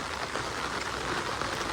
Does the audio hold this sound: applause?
no